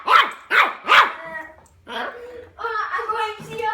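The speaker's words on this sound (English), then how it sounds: "You should speak and then you bark" A dog barks three loud times at a hockey stick, close by and evenly spaced. A person then talks briefly, and a few softer vocal sounds follow.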